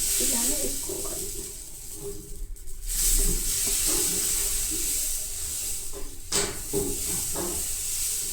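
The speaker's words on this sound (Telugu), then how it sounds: "దోశని మంచిగా కాల్చుకోవాలి, మంచి కాలుతోనే టేస్ట్ కూడా బాగుంటుంది." A green gram dosa, pesarattu, cooks on a hot pan with a soft, steady hiss and gentle sizzle, with faint background voice sounds.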